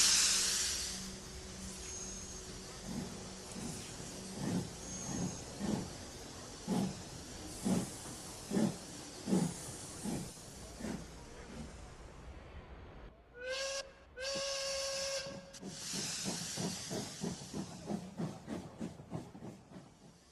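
A steam locomotive hisses steadily with rhythmic chuffing puffs, then gives a couple of sharp, tonal whistle blasts before the chuffing resumes faster; moderately close and without voices.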